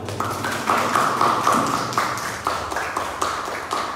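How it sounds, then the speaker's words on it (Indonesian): A class claps for group 1 after a presentation, with rhythmic, somewhat hollow slaps repeating at a steady pace over a faint room murmur. "sekali lagi tepuk tangan buat kelompok 1"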